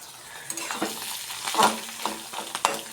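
Leftover prawns fry in a pan with a close, crackling sizzle, several clinks and scrapes of a spoon stirring them through the short stretch.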